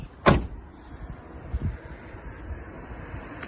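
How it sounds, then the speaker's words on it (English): A tailgate on a 2015 facelifted Mazda CX-5 2.0 SE-L Nav swings down and shuts with one solid thud near the start, followed by a softer knock and faint rustling in a quiet setting. "Just put the tailgate down."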